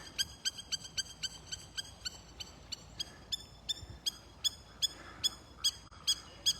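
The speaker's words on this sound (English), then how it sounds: "You hear that bird?" A bird calls repeatedly in a steady rhythm, its sharp high-pitched notes spaced about half a second apart over quiet outdoor background noise.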